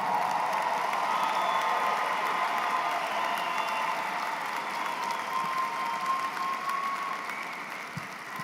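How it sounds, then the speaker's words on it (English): A large audience applauds graduates at a university undergraduate ceremony for health, liberal arts, nursing and social sciences, producing a steady, dense wash of clapping that fills the hall for several seconds and tapers slightly near the end. "stand up while we applaud your accomplishment"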